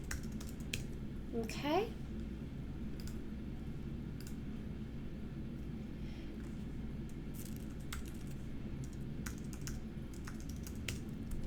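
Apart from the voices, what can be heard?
typing account information on a computer keyboard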